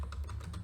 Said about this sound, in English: So we'll type in border